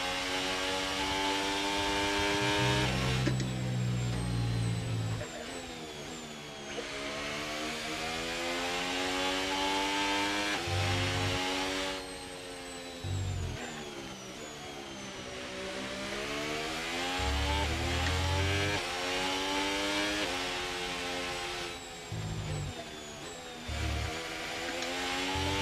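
F1 car engines in a racing game as a Cadillac is being lapped: high, buzzing engine whine rising and falling through gear changes, with lower rumbling bursts from nearby cars, loud and continuous.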